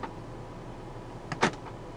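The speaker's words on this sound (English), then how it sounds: "This car does have heated and power folding side mirrors." Power folding side mirrors on a 2011 Volkswagen Eos 2.0 TSI give a short, faint motor whir with a few soft clicks, quiet and close.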